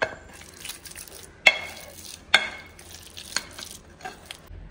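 Boiled, drained potatoes being mashed in a pot for pani puri, a run of soft squishing and scraping broken by a few sharp knocks of the masher against the vessel.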